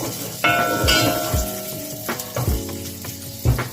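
Chopped onions dropped into hot oil in a pot on a home stove for a meatless Azerbaijani soup, sizzling steadily and close, with occasional clinks and stirring knocks.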